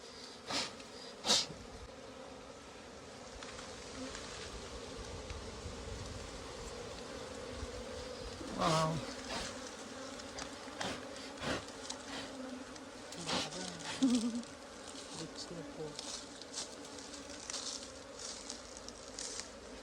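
Honey bees buzz around a honeycomb full of honey, a steady insect drone with louder passes as individual bees fly close, heard without speech.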